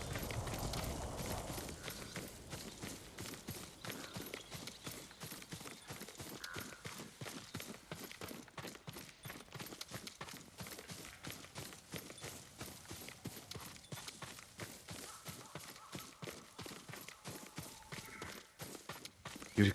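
Horse hooves clip-clopping in Ghost of Tsushima, a steady rapid train of hoof beats at moderate volume that continues throughout with no speech.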